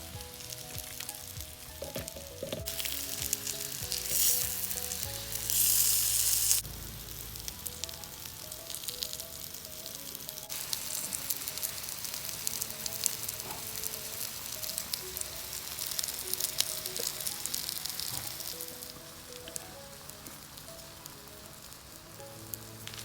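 Pork sizzles and crackles steadily on a hot grill pan, a dense continuous hiss with light popping throughout, close up and without talk.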